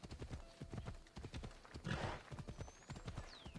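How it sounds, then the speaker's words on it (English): A horse gallops in the Assassin's Creed Odyssey video game, with rapid rhythmic hoofbeats up close and a brief whoosh midway, while faint whistling tones sound in the background. "it seems weird that it just keeps running away from me when I'm trying to get to the horse"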